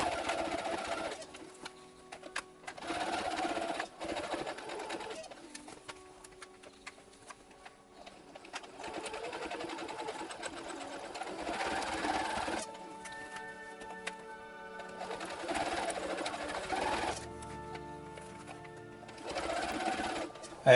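A sewing machine stitches the lining of an Imperial officer hat in close, steady whirring bursts that start and stop repeatedly, with short quiet gaps between runs.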